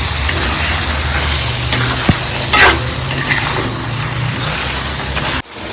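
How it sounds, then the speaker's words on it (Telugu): Marinated chicken frying in oil in a pan for a simple chicken curry, a steady broadband sizzle running throughout with a brief stir clank partway through. "ఇందులో వేసుకొని బాగా ఫ్రై చేయాలి"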